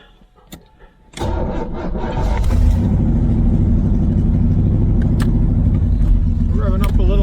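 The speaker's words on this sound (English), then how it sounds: "Revving up a little high on the fast idle, but it'll slow down." A Corvette V8 with a QuadraJet carburetor cranks and catches, then holds a loud, steady fast idle running a little high, close by, with a brief voice before it starts.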